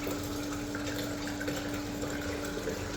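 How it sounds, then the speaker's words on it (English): Steady rushing water from a Kinetic toilet flush system siphoning and flushing, a continuous hiss with a low hum throughout. "That continues to siphon out and flush all the toilets"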